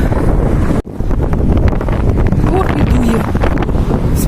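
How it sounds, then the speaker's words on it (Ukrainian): Strong, cold winter wind buffets the microphone in a loud, continuous roar, with a brief dropout near the start and faint chirps underneath. "і вітер такий продимає прям наскрізь"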